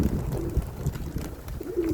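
Pigeons coo in low, rolling calls up close, several soft throaty phrases repeating over a couple of seconds with faint outdoor background.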